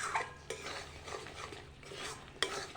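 Raw tamarind pickle is stirred together with roasted, ground spices, producing soft, continuous scraping and mixing sounds close by, with a couple of sharper clinks of a utensil against the pot.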